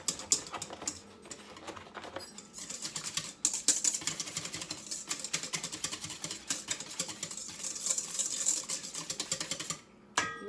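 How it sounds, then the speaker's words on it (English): Eggs being whisked with slightly cooled melted butter in a mixing bowl for a keto recipe, a steady rapid clicking and scraping of the whisk against the bowl, close and continuous throughout. "I'm going to whisk this together really well."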